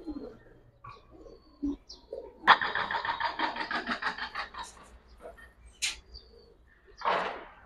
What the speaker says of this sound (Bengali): এই জোড়া জেড ফুল স্প্রিং বাগা কবুতর